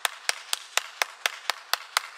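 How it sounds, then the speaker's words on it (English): A single old woman claps slowly and alone in a theater, nine sharp, evenly spaced claps about a quarter second apart, close and crisp against a quiet room. "The camera then pans around to reveal one single old person in the theater clapping at the movie."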